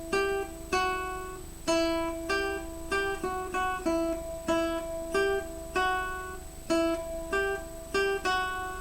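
Plucked guitar notes on a single string form an off-beat, syncopated pattern, each attack ringing briefly before the next; quiet and close, no voices.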